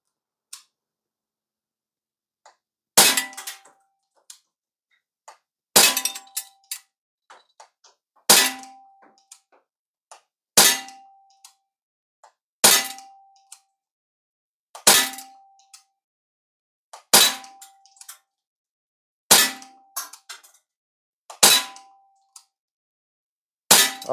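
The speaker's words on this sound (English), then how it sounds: "We're just going to shoot at the bottom ring right at the get-go, 10 rounds" Ten sharp shots from a Bear River BR45 CO2 BB pistol fired at a target, each crack coming alone at an even pace about two to three seconds apart with a short metallic ring trailing it.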